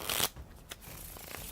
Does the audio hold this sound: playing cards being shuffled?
yes